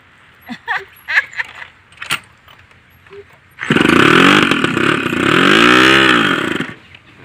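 After a few clicks and knocks, a motorcycle engine fires up close by and runs loudly for several seconds, its pitch wavering as it settles and revs.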